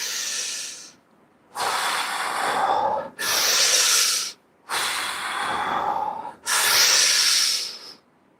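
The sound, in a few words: deep breathing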